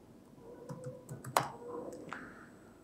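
A prompt being typed on a computer keyboard, heard as a quiet run of close, uneven key clicks with one sharper tap near the middle.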